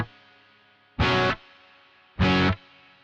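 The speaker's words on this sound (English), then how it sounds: "If I put it on the middle, this is more of a hall setting." Electric guitar played through a reverb pedal on its hall setting: two loud, distorted strummed chords about a second apart, each cut short with a faint lingering tail and a low hum between.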